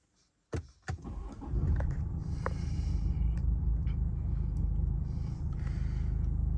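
A BMW 420d M Sport Gran Coupe automatic starts by keyless start: a couple of sharp clicks, then the diesel catches and settles into a steady, low, rumbling idle heard from inside the cabin.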